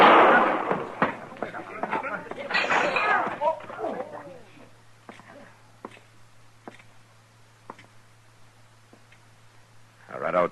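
Gunshots ring out in an old-time radio western drama, a burst of sharp reports near the start mixed with voices, then scattered single shots spaced out over a quieter stretch.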